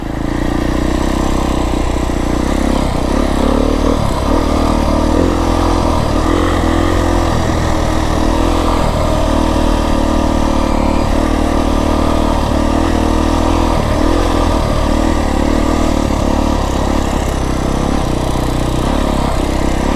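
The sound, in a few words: Beta 350 X-pro motorcycle engine while riding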